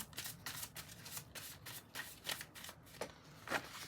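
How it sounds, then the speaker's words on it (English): Synchronicity cards being shuffled by hand, a steady run of soft papery riffles and slaps close up, with no voices. "I'm never shuffling these synchronicity cards for this long"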